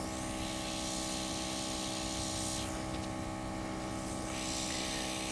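An airbrush spraying paint for nail art hisses steadily with a fine, continuous spray, close and fairly quiet, with a brief stronger burst partway through.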